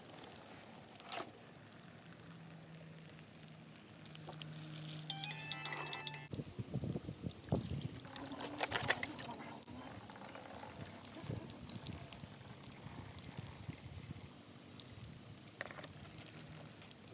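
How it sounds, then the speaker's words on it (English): Water poured over a model landmass in a riverbed experiment, a soft, fairly quiet trickle and splash running steadily, with a few knocks and handling noises and no talking. "Pour water over your landmass for 1 whole minute."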